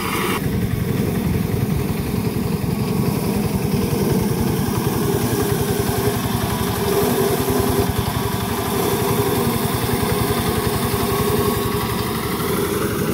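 A small mini tiller engine runs steadily while churning garden soil, a continuous buzzing putter that stays loud and close throughout with no talking.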